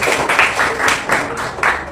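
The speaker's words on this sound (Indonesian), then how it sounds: "Tepuk tangan dulu." Schoolchildren in a classroom clapping their hands together in a quick group round, the claps coming in uneven bursts, loud and nearby for about two seconds.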